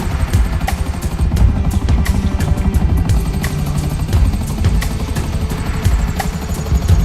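A helicopter in the video game GTA 5 drones loud and continuous, with rotor chop and engine hum sustained steadily and no voices.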